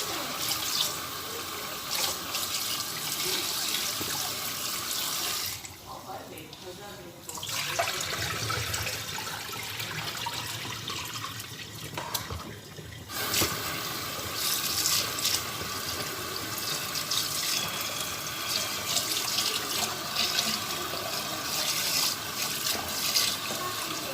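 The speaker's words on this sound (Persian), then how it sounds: "با آب خنک برنج را میشوییم." Cool tap water runs steadily into a sink while rice is washed under it for pilaf, a continuous rushing flow with brief dips and shifts as the grains are swirled and rinsed.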